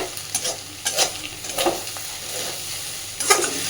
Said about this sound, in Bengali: মিডিয়াম ফ্লেমে গ্যাসটা দিয়ে আস্তে আস্তে সুন্দর করে ভেজে নেব।